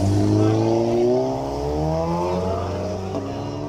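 A car engine revving hard for a launch at a Race Wars street-racing event in Tatu City, Kenya: a loud, steady, close engine drone whose pitch shifts slightly, with voices faintly underneath.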